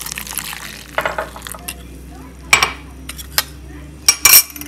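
A metal spoon stirs soy milk powder mixed with liquid, clinking against a cup or bowl in irregular bursts, with the sharpest scrapes and taps near the end and no talk.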